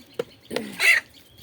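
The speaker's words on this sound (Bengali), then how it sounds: "এই হচ্ছে আমার মুরগিগুলো, ভয় পায় না" Domestic hens and a rooster wandering close on a home farm give a few short clucks, with a sharper, louder squawk near the end, all close by and without talk.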